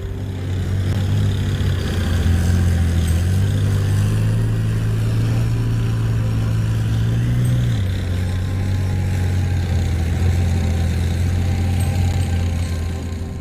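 A Stridsvagn 122 tank's 4-stroke turbocharged liquid-cooled 12-cylinder MTU diesel idles with a loud, steady low drone, its pitch rising for a few seconds in the middle before settling back.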